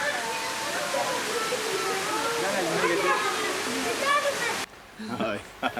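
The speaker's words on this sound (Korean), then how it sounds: "계곡으로 올라가니 폭포도 있다." Waterfall in a valley on Mount Olympus, Greece, a steady broadband rush of falling water that holds continuously, then drops away sharply near the end as faint voices take over.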